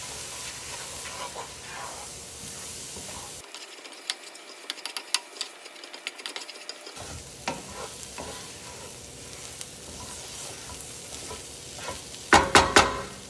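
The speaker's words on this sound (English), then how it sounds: "We're gonna mix that all together." Garlic, spices and flour being stirred in a hot pan, a steady soft scraping and sizzle with a brief muted stretch midway and a few louder clatters near the end.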